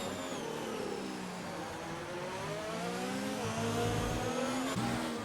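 Ferrari Formula 1 race car engine in a racing video game at the Mexico track, a continuous high-pitched whine with rising gear sweeps as it accelerates down the main straight, loud and steady with no talk.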